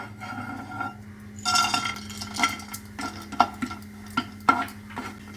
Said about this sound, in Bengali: প্রথমে আমি ড্রাই ফ্রুটটাকে হালকা করে একটু রোস্ট করে নিই। অল্প ঘি দিয়ে দিলাম।